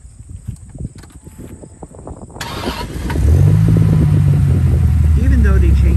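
A 2001 Dodge Viper RT10 roadster cranks and fires up after a few seconds of quiet handling noise, settling into a loud, deep, steady idle rumble close by.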